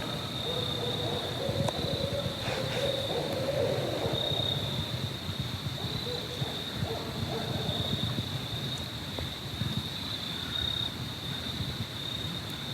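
Faint low owl hoots sound a few times in the distance over a steady insect drone and outdoor hiss, at Congaree National Park.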